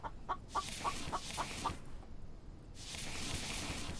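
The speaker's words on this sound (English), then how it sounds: "I can hear a chicken." A chicken clucks in the video game The Infected, giving a short run of rhythmic clucks followed by a steady hiss of ambient game noise.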